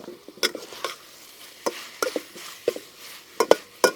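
Beef, pasta and spring onions are stir-fried with a soft background sizzle, punctuated by sharp, irregular clatters and scrapes as the food is turned in the pan.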